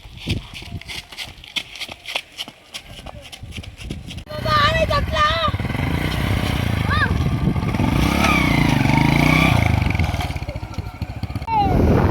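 A motorcycle engine starts and settles into a steady, loud idle with a throaty rumble, with people talking over it.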